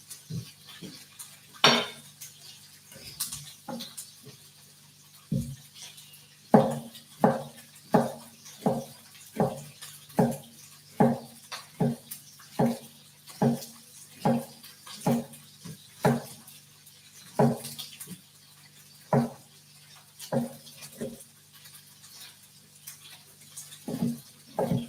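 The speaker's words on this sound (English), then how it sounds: "Just really roughly chopping the cauliflower." Knife chopping raw cauliflower on a cutting board, a steady run of sharp, close thuds in quick rhythm, with brief pauses, and no voices.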